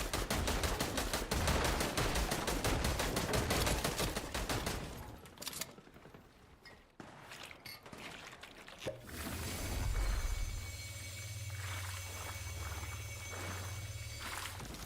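Assault rifle fire in Fortnite rattles off in rapid, dense bursts at close range, then breaks off and gives way to quieter game sounds and a low droning hum.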